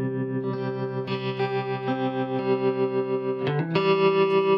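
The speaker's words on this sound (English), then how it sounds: "So I've got the trem set up to a really lovely sound" Electric guitar through a Pigtronix Tremvelope pedal set to a fast tremolo, sustained chords with a rapid pulsing volume wobble and a chord change near the end, loud and close with no talking.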